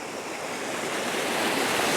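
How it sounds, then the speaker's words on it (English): Waterfall in the Lake District beside a walking trail up Pike of Blisco from Great Langdale, a steady, dense rush of falling water close by that swells slightly louder over two seconds, with no voices. "I couldn't walk past this waterfall"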